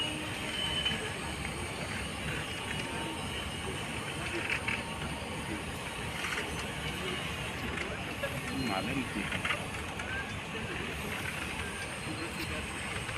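A passenger train on a route toward Guwahati rumbles steadily alongside the track, its wheels and carriages producing a continuous broad roar with faint squeals and hiss, loud and sustained throughout without pause.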